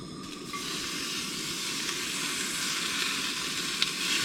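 Big pieces of bacon fry in a pan on a van-life stove, giving a dense, continuous crackling sizzle that holds steady and close throughout, with no voices over it.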